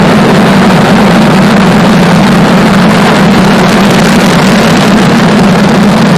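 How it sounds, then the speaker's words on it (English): A SpaceX Falcon rocket lifts off on the GPS III-7 mission from the Florida coast, its engines producing a loud, steady, unbroken roar with a heavy low rumble that fills the whole stretch with no voices. "Ignition. Engines full power. And liftoff."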